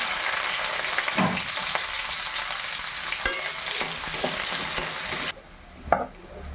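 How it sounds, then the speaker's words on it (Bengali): Onion dropped into hot mustard oil in a heated wok (kadai), frying with a steady broad sizzle and occasional stirring scrapes; the hiss drops off sharply near the end, followed by a short clatter. "তেল গরম হয়ে গেছে, এবার দিয়ে দেবো পেঁয়াজ"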